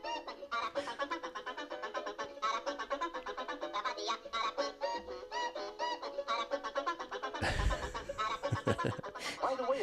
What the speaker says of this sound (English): he's called the AIR-uh-kwan because of the peculiar song he sings, which sounds something like this.